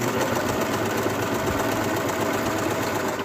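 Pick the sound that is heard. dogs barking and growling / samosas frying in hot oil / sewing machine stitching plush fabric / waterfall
sewing machine stitching plush fabric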